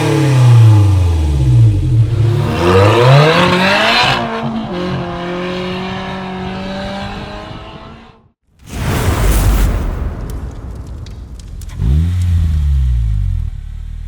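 A 2020-or-newer Polaris Slingshot with a dual rear exit touring exhaust revs hard, loud and close, rising and falling through several throttle blips, then cuts out briefly before roaring back with more revving.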